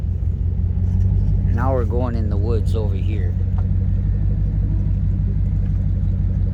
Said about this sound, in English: You can hear the truck is a kind of like a farm truck. It's got a very strong engine in it.